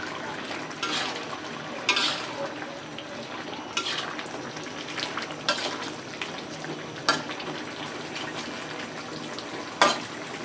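Bay leaves and chopped green chillies sizzle in oil in a pan while being stirred, giving a steady close frying hiss broken by a few sharp scrapes of the spoon against the pan, with no talking.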